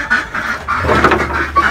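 Ducks quacking during the rainy season, with several overlapping nasal calls repeating in quick bursts, moderately loud and near, with no talking.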